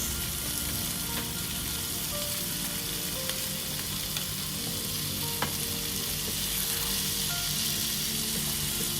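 Pork sautéing with garlic and onion in a pan, a steady dense sizzle and crackle throughout with a few faint scrapes of stirring.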